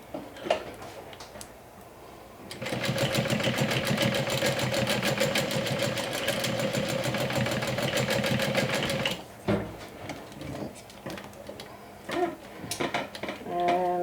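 A sewing machine runs a steady seam close to the raw edge of fabric for a garment cincher, a fast even mechanical whir lasting several seconds, framed by quieter handling clicks and rustles before and after.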